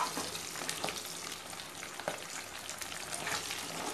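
Curry leaves sautéing in a pan for drumstick vatha kuzhambu, giving a steady close-up sizzle and crackle with small popping bursts that run unbroken throughout.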